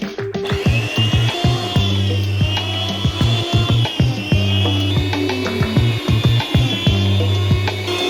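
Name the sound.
slicing machine slicing beef brisket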